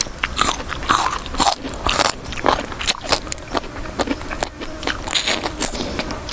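Close, crisp crunching bites and chewing of a spicy Thai salad made with cuttlefish tentacles, a rapid irregular series of crackly snaps throughout.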